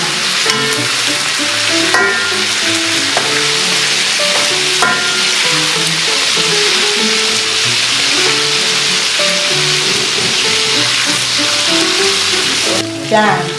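Chicken pieces deep-frying in hot oil for salt-and-chili fried chicken, giving a loud, dense, continuous sizzle and crackle that holds steady throughout with no voices.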